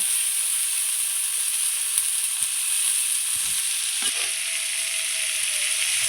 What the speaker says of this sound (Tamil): தக்காளி நல்லா வதங்கிருச்சு